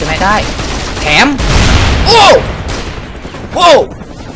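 Bursts of gunfire in the video game Mercenaries 2 crackle under excited shouting and talk, with repeated rapid shots across the whole stretch.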